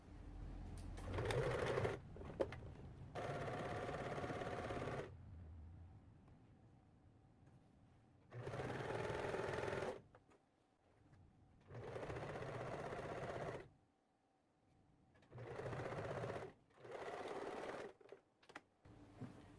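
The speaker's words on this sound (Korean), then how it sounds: "바지 가랑이 부분을 앞에서부터 엉덩이 뒤쪽으로 1cm 간격으로 박음질하고 오버록 해주세요" A sewing machine stitches and overlocks the crotch seam of pants in short, rapid bursts of needle clatter separated by brief pauses, close and fairly quiet, with no one speaking.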